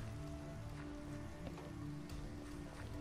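Steady rain patters continuously in the video game Minecraft, a soft even hiss with scattered drops and no talking.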